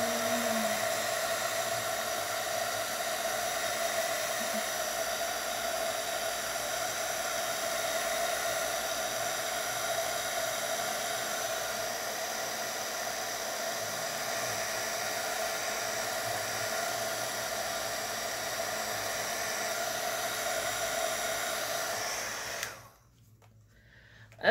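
A hair dryer blowing on a notebook page, a loud steady whirring hum that runs unbroken for over twenty seconds, then cuts off abruptly into near silence.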